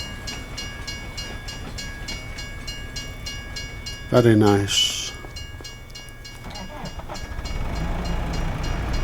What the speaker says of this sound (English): it's an old diesel. An old diesel locomotive